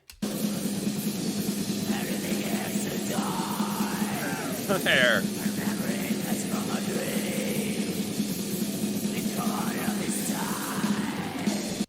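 Harsh, strained screamed vocals wail over a dense, droning wall of distorted Norwegian black metal, loud and continuous throughout.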